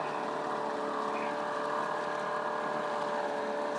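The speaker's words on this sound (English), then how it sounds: "It's a 2-stroke engine, which means the gas mixes with oil." An outboard two-stroke engine drones steadily on a Basstender 11.3 boat, a continuous close whine with wind and water noise while underway.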